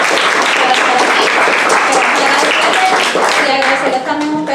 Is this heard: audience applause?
yes